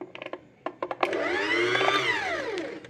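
An Usha Allure DLX sewing machine is run with its foot pedal. A few soft clicks and taps come first, then the motor whirs up to a steady, rising-and-falling hum for about two seconds before winding down.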